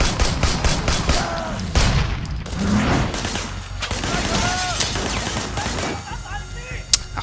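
Rapid bursts of Sleeping Dogs video game gunfire crackle continuously, sharp shots rattling in quick succession with a voice talking intermittently underneath.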